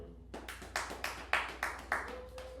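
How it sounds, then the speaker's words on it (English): A single pair of hands claps a handful of times inside a theater, each sharp clap spaced roughly a third of a second apart, fairly close and alone in a quiet room with a faint tone underneath. "I think one person clapped"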